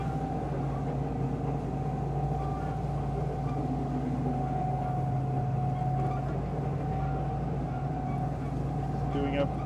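An electric hydrofoil boat motor, a Candela, hums steadily with a tonal whine during a tight turn, engine pitch holding and shifting slightly as a limit kicks in, with water rushing beneath; continuous and close.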